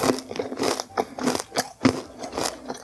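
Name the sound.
crunchy caramel popcorn bingsu being eaten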